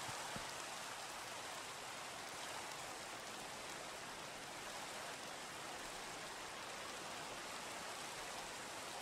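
Steady, even rain pours throughout a Minecraft game world, a constant hiss with no pauses, alone and fairly loud.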